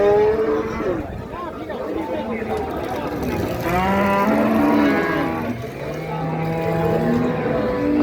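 Dairy cows, some with calves, at a crowded weekly wholesale cattle market, lowing in several long, drawn-out moos at close to moderate distance over a steady murmur of market background noise.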